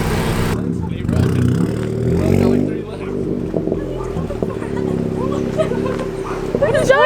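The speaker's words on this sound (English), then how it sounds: "There's a whole dog over there running over here." Dog barking and yipping outdoors near a parked Honda Civic Si with carbon fiber fenders, loud and repeated, mixed with people talking over it throughout.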